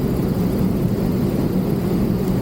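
Cockpit engine noise from a light propeller airplane on final approach to a soft-field landing at Tieton State airport, a steady dense drone with no breaks.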